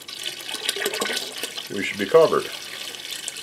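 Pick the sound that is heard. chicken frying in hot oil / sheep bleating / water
water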